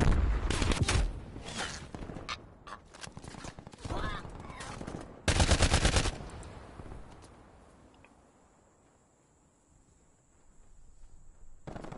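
Rapid machine gun bursts in the Call of Duty Cold War video game, loud rattling volleys and single shots during the first six seconds, then fading into quieter background game noise.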